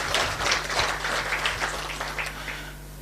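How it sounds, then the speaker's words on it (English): Audience applause at a government project launch honouring a cabinet secretary, a steady wash of many hands clapping from a fair distance, fading slightly toward the end over a low electrical hum. "A clap for her."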